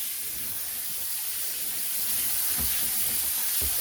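Soaked beans rinsed under a running kitchen tap, a steady hissing water stream close by with faint clatter of beans shifting underneath, no speech.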